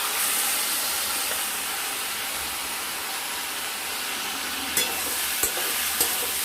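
Chela fish curry sizzles steadily in a pan, a continuous close hiss of frying, with a few light spatula knocks toward the end as it is stirred; no voices.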